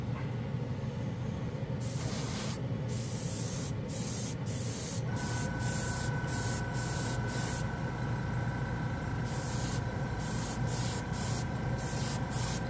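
Badger 360 gravity and siphon feed airbrush spraying black paint at 15 psi onto a spoon, a steady, close, continuous hiss of air that runs unbroken throughout.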